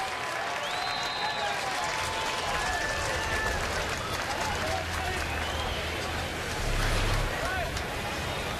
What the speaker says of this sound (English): a nice cheer for former Brave Matty Diaz